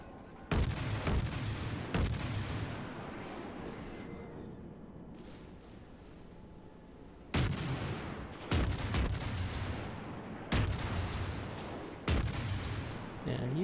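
Heavy naval guns from a World of Warships Krasny Krym cruiser fire in loud, booming salvos, one early cluster and several spaced blasts later, each followed by a rumbling decay, with quieter lulls of engine and sea ambience between.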